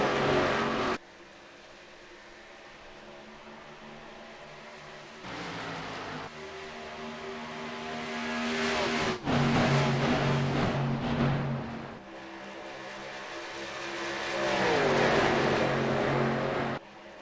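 Stock cars race around the Chicagoland oval in an iSCAR racing game, engines droning steadily and swelling loudly as several cars sweep past in waves, with brief dips between passes and no talk.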